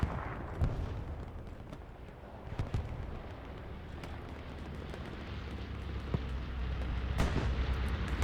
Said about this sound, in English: We should see a bombing run with 479 munitions left.